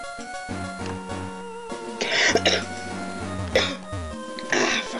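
Three sharp, close coughs break out one after another over steady background music.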